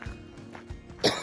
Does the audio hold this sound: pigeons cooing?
no